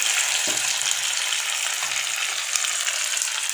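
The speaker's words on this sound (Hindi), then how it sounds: "अच्छे से मिक्स करके लेंगे।" Dal tadka masala sizzles and fries steadily in a pan, with a short stirring scrape near the start and a softer one later, loud and constant with no voices.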